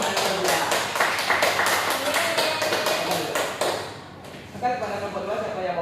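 A group of students applauds in a classroom, giving a fast, dense burst of hand claps that fades after about four seconds. Some talking follows.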